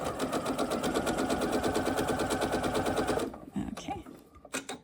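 Sewing machine back stitching a dart in fabric, a fast steady mechanical chatter running for about three seconds before stopping, followed by a few faint handling clicks.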